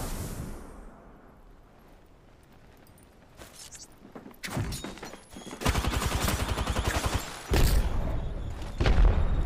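Apex Legends gunfire starts with a few isolated shots, then breaks into loud, evenly spaced automatic bursts and heavy shots in the second half, with little talking.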